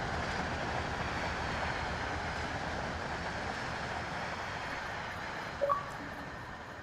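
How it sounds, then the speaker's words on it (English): An Amtrak regional train rolls past in the Train Sim World 6 railway simulation, giving a steady, faint wash of rail noise. A brief sharp tone cuts in near the end. "There goes an Amtrak regional."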